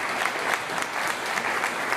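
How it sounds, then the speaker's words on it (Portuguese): Church congregation applauding at a celebration service, steady dense clapping from a crowd filling the whole moment, loud and continuous without pause. "Dá mais uma salva de palmas para Jesus."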